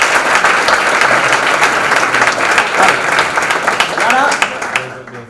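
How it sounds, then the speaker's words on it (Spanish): Audience applause at a Vue UI kit tech talk, a steady wash of many hands clapping that fills the clip and fades out near the end. "vamos a darnos un aplauso porque hemos conseguido ya acabar nuestra aplicación"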